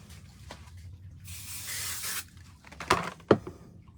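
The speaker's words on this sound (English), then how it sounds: "And spray a little bit of glue on." A spray can of glue hisses in one steady burst lasting under a second inside a spray box, followed by a couple of soft knocks and taps nearby.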